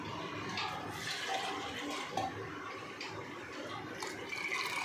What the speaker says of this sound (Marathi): तर बघा याच्यात टाकते मी आता पाणी